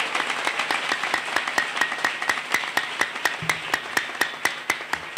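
A church congregation in Ulhasnagar claps together in a steady, even rhythm, about four claps per second, loud and close, with no talk between claps.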